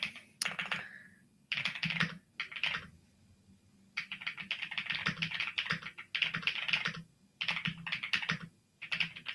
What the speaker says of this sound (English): Hope you like my keyboard sounds.